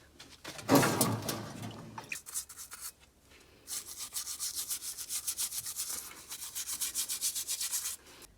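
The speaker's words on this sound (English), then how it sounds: "So we're just gonna scrub these guys before we sandblast." Jeep parts get scrubbed clean of grease before sandblasting: a brief loud scraping burst, then a run of steady, rhythmic brushing strokes close by, with no voices.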